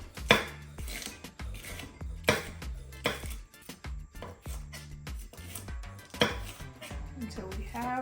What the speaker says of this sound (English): So I'm just, cutting off a piece, removing the seed. And then we're just going to thinly slice it.